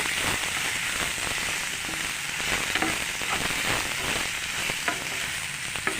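Mushroom curry with added salt is stirred in a pan, giving a steady, close hiss of frying with scattered scraping and clicking strokes of the spoon throughout, and no one talking.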